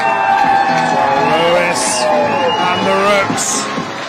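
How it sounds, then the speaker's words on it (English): Loud stadium crowd at a Brighton & Hove Albion versus Lewes football match, cheering, whooping and applauding on their feet in a dense close roar, with two sharp bursts of shouting and a commentator talking over it. "People standing up on their feet all around us applauding these two sides"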